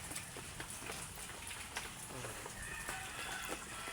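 Continuous rain falls in the Philippines, with rain filling a bucket: a soft, steady wash of drops with scattered patters, quiet and unbroken throughout.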